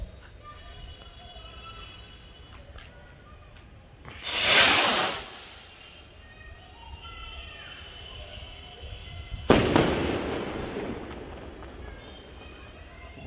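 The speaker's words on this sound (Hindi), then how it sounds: "तो दोस्तों अब हम लोग जलाने वाले हैं डेल्टा रॉकेट। ये भी स्टैंडर्ड फायरवर्क्स का है।" Two Standard Fireworks Delta rockets are lit one after the other during Diwali, each leaving with a loud, sharp hissing whoosh that fades off, against a quiet outdoor background.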